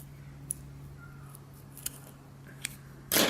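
Scissors snip through the leftover end of a string being trimmed for a homemade blow dart, a single crisp close cut near the end after a few tiny clicks over a quiet hum.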